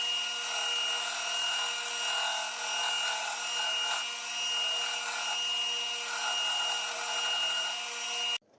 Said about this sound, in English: now I'm going to grind off the spine here, make that clean